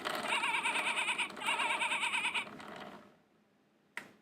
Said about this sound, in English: The sheep goes.